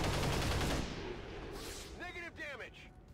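A gunshot in the video game XCOM 2 opens as a loud, booming burst that fades into a rumbling tail, followed by a brief stretch of someone talking.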